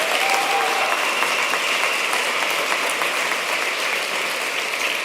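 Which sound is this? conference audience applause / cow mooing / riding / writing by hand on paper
conference audience applause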